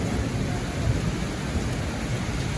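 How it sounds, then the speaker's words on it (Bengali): Heavy rain pours steadily outdoors, a dense continuous hiss with low rumbling underneath, loud and close without pause. "এতটা পরিমাণে বৃষ্টি হইতেছে"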